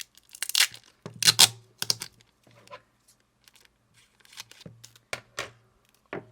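Wide tape for adding filler cord to a coiled basket is torn and handled in short, sharp bursts. The rips and crinkles come close up, separated by quiet gaps, with no talking.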